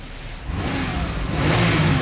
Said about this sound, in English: Revs up just fine.